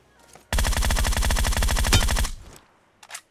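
In a mobile battle royale game, a single rapid automatic burst of gunfire runs for about two seconds, loud and close, with evenly spaced shots, then fades into quiet with a faint trailing sound.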